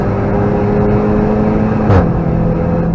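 Car engine at full throttle on the Nürburgring heard from onboard, a loud, steady drone that holds pitch, then dips briefly near a gear change before pulling again.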